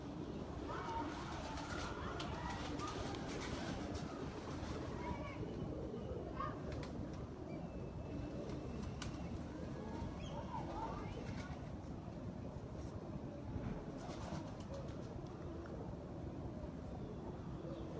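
Soft, low pigeon cooing repeats through a steady murmur of background noise, with no clear talking.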